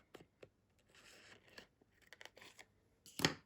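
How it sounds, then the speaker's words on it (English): Scissors snipping the edge off a piece of stamped card, a few quiet separate cuts and paper rustles ending in one sharper, louder snip; no talk. "I'm just going to trim the edge off and"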